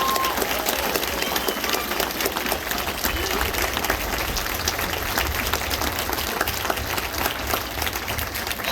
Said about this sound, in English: give all the middle school program one more big round of applause